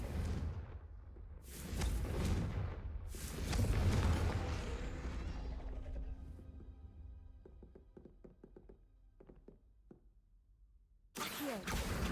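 Confringo fire spell in Hogwarts Legacy: a series of loud booming blasts with crackling debris tails, fading into scattered ticks and rumbles, then another sharp burst at the end.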